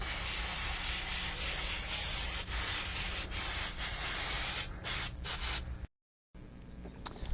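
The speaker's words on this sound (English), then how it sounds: "Now spray some brake cleaner all over the rotor and the caliper." Steady aerosol brake cleaner spraying onto a brake rotor and caliper hisses close by in long continuous bursts, with a few faint clicks, then a brief silence and quieter rustling.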